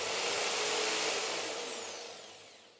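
An electric drill machine whirs at high speed during an overload protector test, then winds down, its whine falling in pitch as the motor slows after being cut off, close and loud with no talking.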